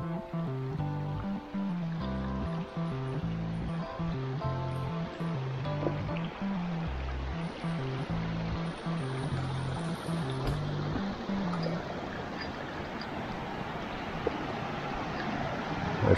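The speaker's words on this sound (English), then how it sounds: "We're just literally surrounded by cascading falls." Cascading waterfalls along a Shenandoah hiking trail give a faint, steady rushing wash heard from some distance, a continuous broadband hiss with low rumbling tones layered beneath it throughout.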